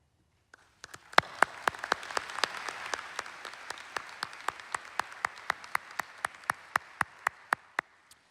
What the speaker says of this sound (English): Will the board members please stand for applause?